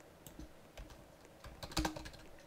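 Keys clack on a computer keyboard in scattered, uneven bursts, fairly quiet and close, with a denser cluster of presses near the end and no talking over it.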